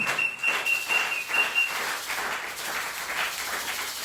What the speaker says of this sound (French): Applaudissez le Seigneur Jésus.